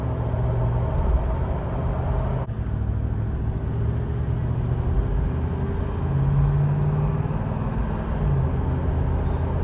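Toyota Land Cruiser 79 series with an 8-speed automatic, steady low engine rumble at light throttle with gear changes around 2000 RPM, subtle shifts in the drone heard from inside the cab, no talk.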